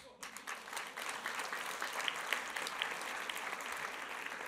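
Quiet audience applause during a speech about freedom of the press, a soft, fairly steady patter of clapping that sounds somewhat distant.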